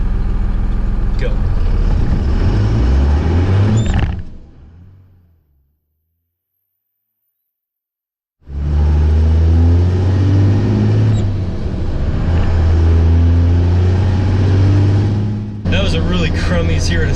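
A dually pickup truck's engine roars loudly from up close while it accelerates, drops to silence for a few seconds during a gap, then surges again through another hard pull, with brief speech mixed in.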